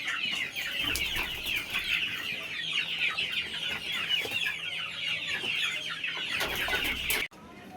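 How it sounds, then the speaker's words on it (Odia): A flock of desi chickens clucking steadily while being fed grain, a busy, close chorus of overlapping clucks that runs almost the whole time before cutting off near the end. "କୁକୁଡ଼ାମାନଙ୍କୁ"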